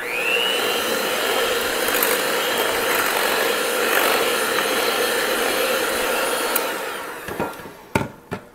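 Muffin batter is stirred in a bowl, a steady loud whirring or scraping mix that runs continuously, then breaks into a few knocks and taps at the end.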